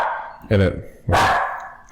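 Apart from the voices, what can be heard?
dog barking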